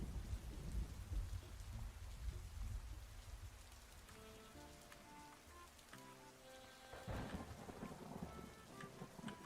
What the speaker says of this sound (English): The storm and the rain and everything?